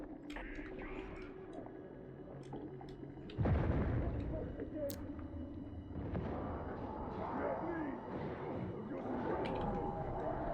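In the video game Warhammer: Darktide, a grenade explodes with a sudden loud boom midway, followed by rumbling combat noise and scattered gunfire-like pops over a constant background din.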